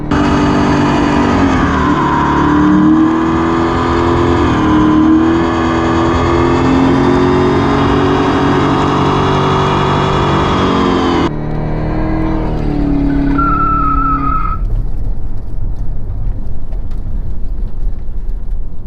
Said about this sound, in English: we've officially done our first line lock burnout or standing burnout